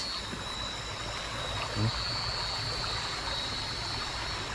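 Steady, gentle trickle of flowing water in a wooded area near a cemetery, a continuous soft wash heard alone at a moderate distance with no one talking.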